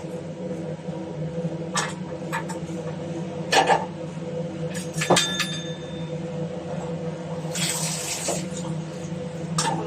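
Cooked raw plantain and cucumber, simmered with turmeric and chili powder, poured into a clay pot: a liquid splashing and trickling at close range, with a few louder gushes along the way.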